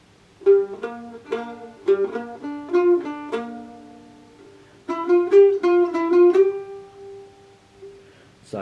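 A mandolin picks a passage from a song, a run of bright plucked single notes in quick succession, a pause, then another phrase ending on a held note, close and solo without talk.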